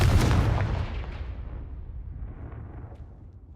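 In Hogwarts Legacy, the Confringo fire spell lands as a heavy explosive blast, loud and booming at first, then rumbling and fading over a few seconds.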